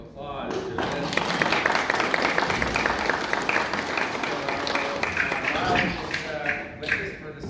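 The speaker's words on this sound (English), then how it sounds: "I think a little hand of applause to this." Applause breaks out from an audience at a raptor wildlife presentation, a moderate steady patter of clapping mixed with voices that fades toward the end.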